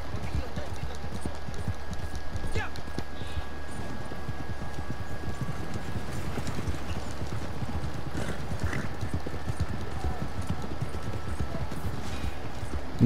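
Horses' hooves clip-clop steadily in Red Dead Redemption 2, a continuous fast rhythm of several horses on the move, with people talking over the gameplay throughout.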